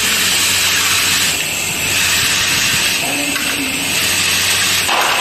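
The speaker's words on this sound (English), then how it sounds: "washer and screw assembly machine. Machine can auto feeding, sorting and assembling." A screw and washer assembly machine with a vibration bowl feeder runs with a loud, continuous hiss and mechanical hum, steady throughout with slight swells in intensity.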